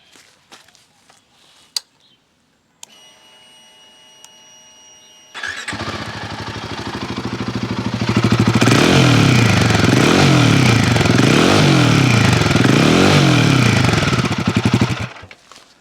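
A Royal Enfield Himalayan 452 engine cranks and catches after some faint clicks, idles roughly, then revs up loudly in repeated swells, close by, before cutting off.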